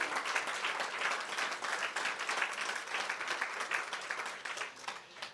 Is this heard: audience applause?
yes